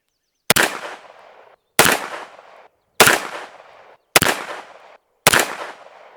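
A Springfield Kuna 9mm carbine fires Federal Red Box Champion 115 grain rounds, five loud shots spaced about a second apart. Each crack is sharp and followed by a short echo, with no talk between the shots.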